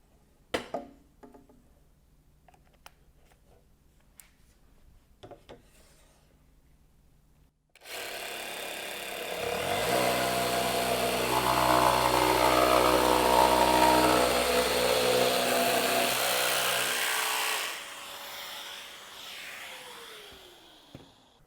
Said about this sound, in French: Pour cette démonstration de coupe avec rail, je vais utiliser une lame Carvex à denture avoyée